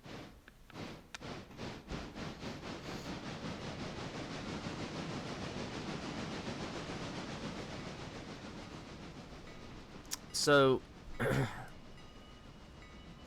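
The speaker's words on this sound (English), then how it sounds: "Now let's reverse back in onto the train." Train backing onto cars in a Smoky Mountain railroad video game, a steady rolling rumble with rhythmic clicking and hiss, ending in two short loud coupling clanks.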